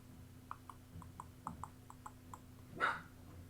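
Dogs bark somewhere in the distance, a faint run of evenly spaced yips followed by one louder, closer bark, over a low steady hum.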